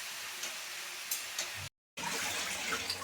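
Tap water runs steadily into a sink while spinach is rinsed by hand in a home kitchen, a close continuous splash briefly cut off, then resuming.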